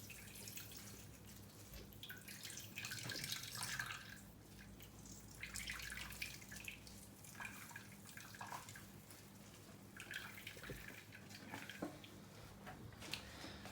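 Water dripping and trickling from chopped tomatoes squeezed in a cloth, a steady patter of small drips and splashes at close range with no talking.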